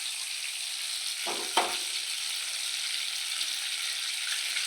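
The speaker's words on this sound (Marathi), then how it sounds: "बटर आपलं तेलामध्ये मिक्स झालं की आपण आता त्यात भाज्या घालून घेणार आहोत" Vegetables sizzle steadily in a pan of melted butter and oil, a constant bright frying hiss with a couple of brief scraping stirs near the middle.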